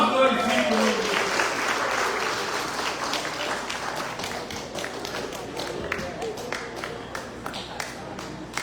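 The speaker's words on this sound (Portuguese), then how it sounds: "E as palmas glorificam" A church congregation claps in praise, a broad, sustained wash of applause mixed with voices, turning into firmer, more rhythmic claps toward the end.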